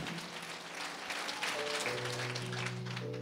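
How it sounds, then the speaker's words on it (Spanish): Applause from a congregation in church during a Christmas sermon in Quechua, a sustained patter of clapping that grows slightly fuller midway, with a steady sung or hummed tone underneath. "Fuerte aplausos a Cristo."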